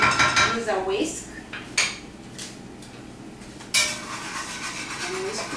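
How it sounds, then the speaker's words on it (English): A whisk beats milk in a bowl for a cheesy chicken breast dish, sending a few sharp metallic clinks and scrapes against the bowl between quieter stretches, with a brief voice near the start. "And I will use a whisk"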